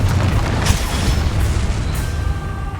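Bombarda or Confringo spell blasts in Hogwarts Legacy: a heavy, rumbling boom fills the clip, with a couple of sharper bursts layered on top, loud and dense throughout.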